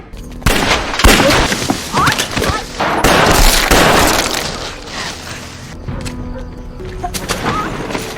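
Dense bursts of gunfire and booming impacts from a film gunfight, loud and continuous with sharp cracks, crashes and debris throughout.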